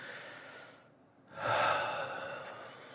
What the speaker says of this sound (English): Take another nice big deep breath for me.